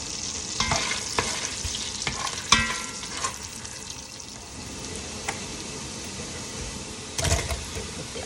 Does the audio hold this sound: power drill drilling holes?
no